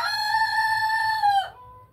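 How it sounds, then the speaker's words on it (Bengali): A rooster crows once, loud and close, in a long sustained call that drops off near the end, over soft, repeated clucking from chickens in the background. "মুরগিগুলো আছে, তো একটু খেতে দিতে হবে"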